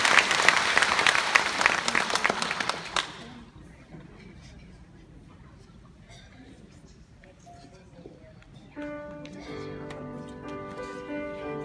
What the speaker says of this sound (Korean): 큰 박수 쳐주세요.